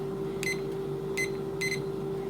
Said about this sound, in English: I'm gonna set this timer for 3 minutes